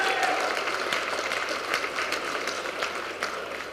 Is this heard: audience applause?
yes